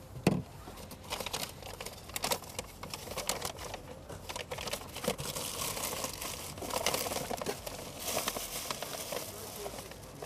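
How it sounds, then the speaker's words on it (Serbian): Plastic bags opened and rummaged through during a police roadside vehicle check in Herzegovina, giving close, irregular crinkling and rustling bursts, with people talking nearby. "Možete li otvoriti samo kese?"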